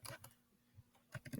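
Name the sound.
typing on a computer keyboard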